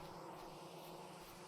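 Bees buzzing around straw skep hives in the video game Vintage Story, a steady, quiet droning hum with no pauses.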